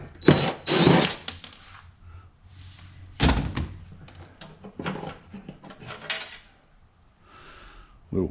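A motor being pulled out of a machine during a shop teardown, with a few loud clunks and bangs of metal parts separated by quieter scraping and handling noises, close and intermittent.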